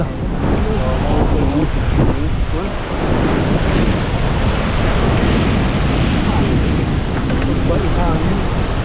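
Strong wind on a coastal outing in Tanauan, Leyte, roaring steadily and loudly into the microphone along with the rush of surf, a dense, continuous buffeting with no breaks.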